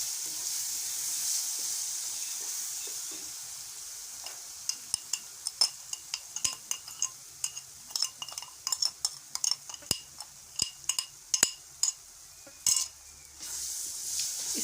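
Semolina and egg halwa sizzles steadily in a pan while a spoon stirs it, with a dense run of sharp metallic scrapes and clinks against the pan growing busier toward the end, close and fairly soft.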